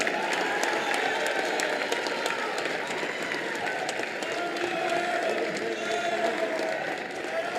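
A gym crowd at a high school basketball senior night applauds the Harrison County seniors with continuous clapping and some cheering that runs steadily for several seconds, while faint voices murmur beneath.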